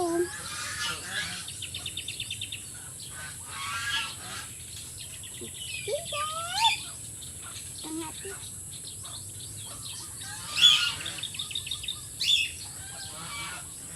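Parrots and cockatiels chirp in an aviary with short repeated tweets and whistles, some in rapid bursts, at moderate volume over a steady background hum, while a person talks at times.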